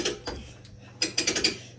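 A ratchet on a Bernina Q24 quilting frame clicks as the quilt is rolled up, a short burst of quick mechanical clicks after a few quieter taps, close and faint.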